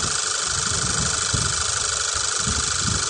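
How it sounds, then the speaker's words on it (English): A car engine runs during a battery cranking test, a loud, steady mechanical drone with a rough low-end pulse throughout. "We need to start engine for 5 seconds to this loaded testing."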